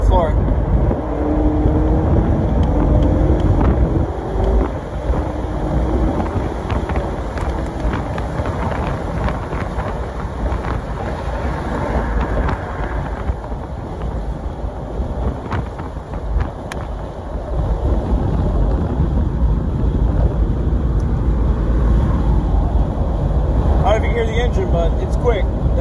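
A 2018 Ford Mustang EcoBoost convertible with a 4-cylinder engine, in Sport Plus mode, accelerating hard at full throttle from a 60 mph roll, heard from inside. Steady loud engine and wind roar runs throughout, with talk over it.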